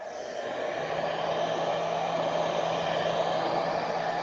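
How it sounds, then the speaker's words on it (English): A hairdryer blows steadily to heat a bagging cured lead-out during an Aegis repair, a constant close whooshing hum with no pauses or talk. "I have to hit it with a hairdryer."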